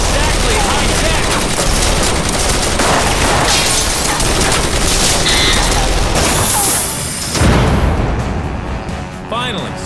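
Dense, loud gunfire in the video game Mindjack as characters shoot at a panel, rapid continuous bursts with booming impacts and mechanical clatter, a bright metallic hit near the end, with voices shouting over the shooting.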